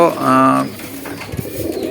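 Domestic pigeons preparing to lay eggs give a close, soft cooing call with a steady low harmonic tone lasting about half a second, followed by fainter rustling and quieter coos.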